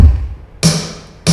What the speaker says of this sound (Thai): นี่สมมติเรานี่เป็นเสียงกระเดียงครับ